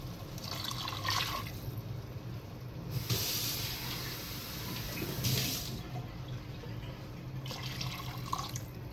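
Water pours into a cooking pot while chicken gravy is being made, a steady hissing, splashing rush that swells and eases in a few bursts, fairly close and with no talk over it.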